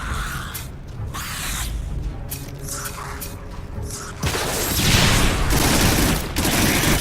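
Rocket gun in the Farpoint video game unleashing rapid volleys of blasts and whooshing rocket bursts, loud and close, with a heavier sustained barrage of explosions in the latter half.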